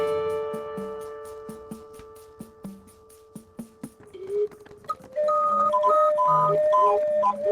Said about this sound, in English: Every cycle he picks up the same lucky message from the crank organ player on the street.